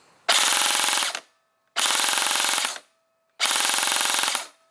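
Krytac CRB airsoft AEG in stock form firing full auto: three loud, close bursts of rapid buzzing shots, each about a second long, separated by short silences, with no talking.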